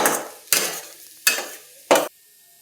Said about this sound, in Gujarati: અને સરસ રીતે મિક્સ કરી લેશું.